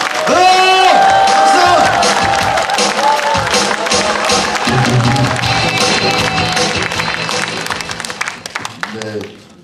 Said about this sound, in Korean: 여러분의 뜨거운 박수 함성으로 맞이해 주시기 바랍니다